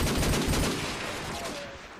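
Rapid gunfire bursts in Call of Duty 4 ProMod during a competitive esports match, loud dense shots in the first second then thinning under game noise.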